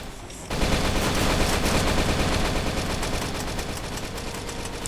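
Rapid, continuous automatic gunfire in the Roblox game Military Warfare Tycoon starts abruptly and keeps rattling loudly for several seconds, dense and sustained.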